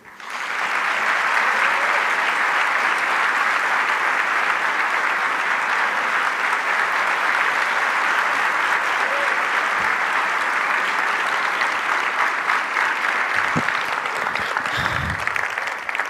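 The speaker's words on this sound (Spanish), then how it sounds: "le pedimos un muy fuerte aplauso" Loud, sustained applause from a large audience at a business congress, welcoming Argentine President Javier Milei, steady and continuous throughout, with no voices rising above it.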